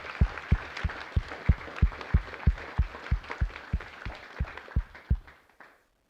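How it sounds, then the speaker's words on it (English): An audience at a TEDx event applauds the tech team, with strong rhythmic unison claps about every third of a second over scattered clapping, fading out at the end. "So please give them a round of applause as well."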